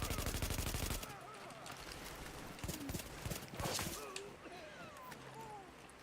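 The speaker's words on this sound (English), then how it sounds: "Apparently I can't shoot through shit" A rapid burst of automatic gunfire opens in a video game, then gives way to softer scattered game sounds, clopping hooves and low voices, with a few more distant bangs later.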